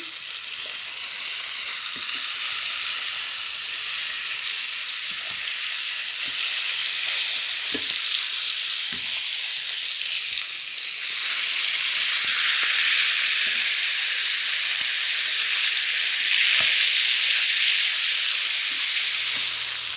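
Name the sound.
meat frying and sizzling in a pan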